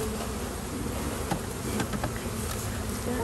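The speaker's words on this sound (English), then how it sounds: "I'm covered with bees." Honeybees hum in a dense, continuous drone around a top bar hive during a package installation, close and loud, with individual bees whining past near the microphone.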